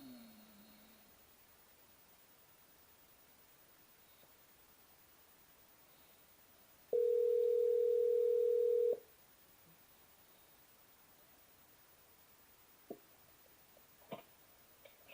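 A telephone call is placed: faint line noise, then a single steady ring tone holds for about two seconds before quiet returns, followed by a few small clicks near the end.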